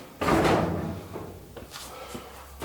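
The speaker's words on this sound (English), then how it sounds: "all I need to do to remove this front door panel is pull it towards me a little bit off the top" A front door panel pulled loose from a Kenmore 90 or Elite dryer gives one loud clunk of sheet metal, then a softer rattle and a few faint knocks as it comes free.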